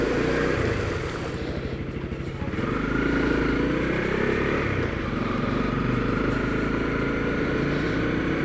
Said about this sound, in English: If you can hear another motorcycle